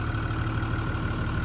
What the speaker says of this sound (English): it really is relatively quiet, even when it's running. Because, of course, that diesel engine is right under the doghouse right there.